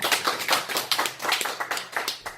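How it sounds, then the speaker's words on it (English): Round of applause from a small audience at a performance, a dense, close burst of hand claps with uneven rhythm, loud and continuous, with no talking over it. "round of applause, everyone"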